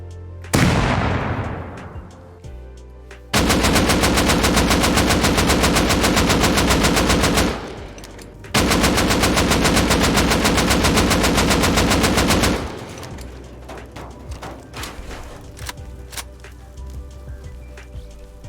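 Automatic AK rifle fire in a solo online shooter game, loud sustained bursts of rapid shots in two long strings separated by a short pause, with a brief burst at the start and scattered distant shots afterward.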